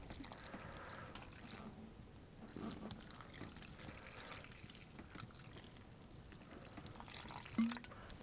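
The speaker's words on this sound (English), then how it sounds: "Just go ahead and add your water." Water is poured into cornmeal outdoors at a wall tent camp, giving a faint, uneven trickling and splashing that rises and fades in a few bursts.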